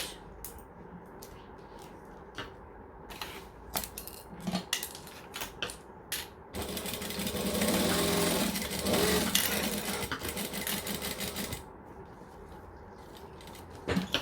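A home sewing machine stitching fabric, starting with a few clicks and handwheel taps, then running in a sustained whirring burst of stitches for several seconds before stopping into more light clicks and handling noises.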